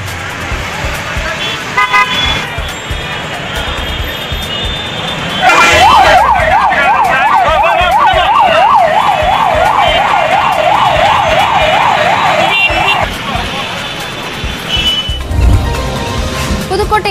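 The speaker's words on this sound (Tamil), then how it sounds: "இதில் ஆம்புலன்ஸ் ஒன்றும் சிக்கிக் கொள்ள போக்குவரத்து காவலர்கள் உடனடியாக அதற்கு வழியை ஏற்படுத்தி தந்தனர்." Wailing ambulance siren stuck in a traffic jam, a loud rapid warbling rise and fall lasting several seconds amid car horns and road noise, with a voice talking over it.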